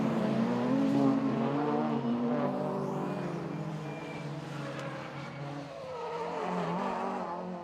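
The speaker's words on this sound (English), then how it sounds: "There's lots of tyre squeal from the minis as they come out of turn 2" Rallycross Mini racing cars at Mondello in a British Rallycross Championship round, engines revving loudly and continuously with tyres squealing as they power out of a corner, sustained close-range racing noise throughout.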